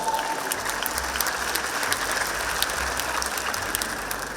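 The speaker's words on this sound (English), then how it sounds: "give yourself a round of applause" At a school graduation ceremony, the audience claps loudly and continuously for the graduating class, with many hands blending into a dense, steady roar of applause.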